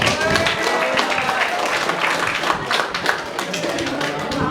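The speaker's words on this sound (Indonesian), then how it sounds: "jadi mari kita berikan tepuk tangannya" Audience applause fills a room at a student council candidate debate, a dense steady wash of clapping that holds for several seconds with no pause.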